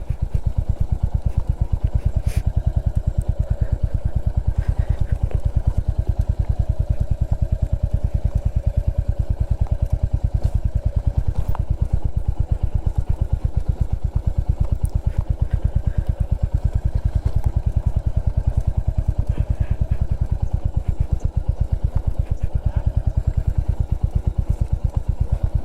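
A low-clearance motorcycle rides on the road near Bangalore, its engine a steady close-up drone with a dense, unbroken throb and wind rush that lasts the whole stretch.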